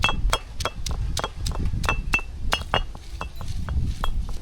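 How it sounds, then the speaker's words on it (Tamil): Ginger and garlic are crushed by pounding, giving a brisk, steady series of about twenty sharp, close knocks with a slight clinking ring. "இஞ்சி பூண்டை வந்து தட்டி எடுத்துக்கலாம்"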